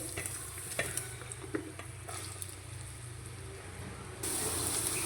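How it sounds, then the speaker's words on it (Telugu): Onions dropped into heated oil hiss and sizzle, with scattered stirring clatter and then a louder, steady frying hiss near the end, close up and without speech. "ఆయిల్ అయితే హీట్ అయిందండి. ఇప్పుడు ఆనియన్స్ అయితే వేసుకోవాలి."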